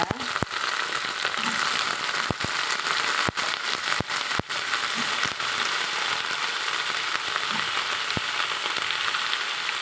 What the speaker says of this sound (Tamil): கொஞ்சம் ஓரளவுக்கு வதக்கட்டுங்க